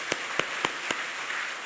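A church congregation claps together at a Christmas Day service. Four sharp, evenly spaced claps ring out before fading into quiet room tone.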